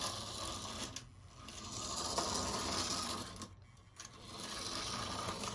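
Slow steering mechanism of a Kyosho Mini-Z Subaru Sambar, non-servo, whirring and ratcheting in a thin, steady mechanical buzz with brief dips, close and alone.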